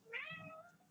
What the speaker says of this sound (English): Totally thought that was my cat